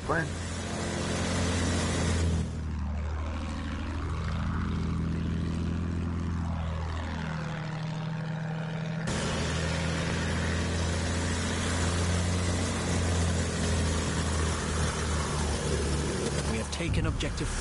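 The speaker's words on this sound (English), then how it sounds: "All right, I'll take the plane." A propeller fighter plane in the Battlefield 1 video game drones loudly throughout, with its pitch swooping down and back up twice as it passes, mixed with other game sounds and voices.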